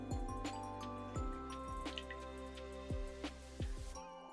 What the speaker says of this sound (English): Line a strainer with paper towels and slowly strain the bonito flakes.